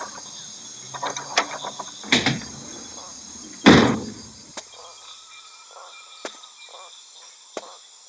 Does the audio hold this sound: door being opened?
yes